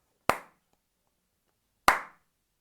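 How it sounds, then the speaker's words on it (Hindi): Two sharp, crisp hand claps marking tala beats, spaced about a second and a half apart with silence between, close and clear. "4 गुने की ताली को जब आप लगाइए तो 4 हिस्से कर दीजिए।"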